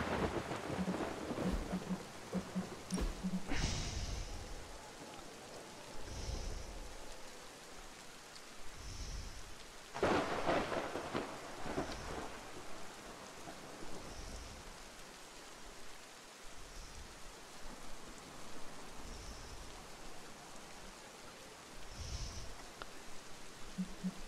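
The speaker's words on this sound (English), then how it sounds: "Oh, it's thundering." Thunderstorm in the video game Midnight Suns: steady rain hiss throughout with several deep thunder rumbles, one loud crack near the middle and fainter rolling booms spread across, no voices.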